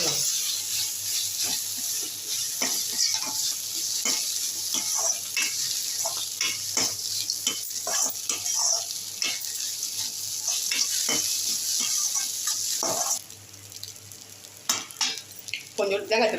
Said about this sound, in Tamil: கிண்டலாம்.